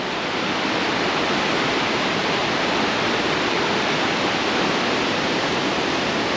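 A waterfall at the 4000 Islands in Laos gives a steady, dense rushing roar that fills the whole stretch evenly and stays close and loud, with no voices.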